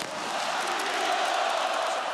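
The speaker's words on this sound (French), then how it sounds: "Un tonnerre d'applaudissements pour notre capitaine numéro 5, Marcos Aroas Correa." A large arena crowd cheers and applauds for a football team captain at a European championship celebration, a dense, steady roar of voices and clapping filling the whole moment at close range.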